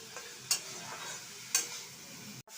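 Spice paste with tomatoes and potatoes fries in a pan while a spoon stirs, a steady gentle sizzle broken by two crisp scrapes and a brief cut at the end.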